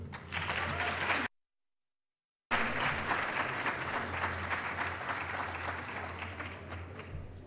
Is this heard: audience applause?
yes